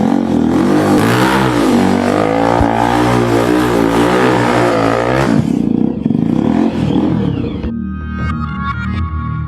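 A motorbike engine revs loudly and steadily, then cuts off abruptly, leaving a quieter idle with faint clatter.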